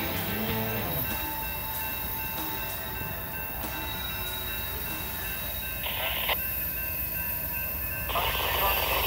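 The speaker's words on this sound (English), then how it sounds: "All right, here comes the train." A long CSX freight train with two distributed power units mid-train rolls past on a sharp curve, its steady rumble joined by high wheel squeal and brief horn-like tones.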